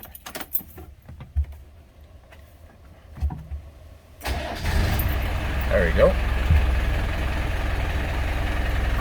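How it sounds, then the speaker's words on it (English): A 1996 Land Rover Defender, idle for a few days, cranks and fires up partway through, then settles into a steady, loud, rumbling idle close by; keys jingle and someone speaks briefly before the start. "I am gonna start this engine"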